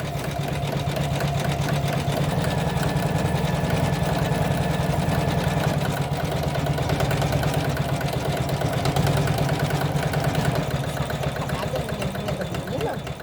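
An embroidery sewing machine fills in a satin stitch on a castle decoration. It runs with a steady rapid mechanical chatter and hum that stays constant throughout, with no one speaking.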